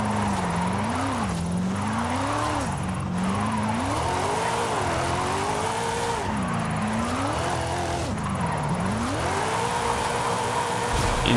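A Buick GNX drifts in Forza Horizon 5, its engine droning and rising and falling in pitch as the revs swing through long slides, with steady tire roar throughout and no pauses.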